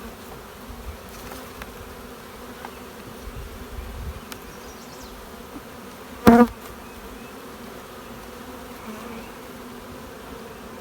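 Honeybees hum steadily around an opened nuc hive during a frame inspection, a soft close buzzing throughout with a brief louder burst of wingbeats as one passes near.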